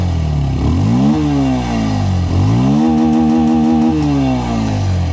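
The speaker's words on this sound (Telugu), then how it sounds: "ఒకసారి ఎగ్జాస్ట్ సౌండ్ వినండి" A Bajaj Pulsar 150 dual-disc motorcycle revs up and down several times, its exhaust note rising and falling in loud, close sweeps with a choppy, pulsing idle between the revs.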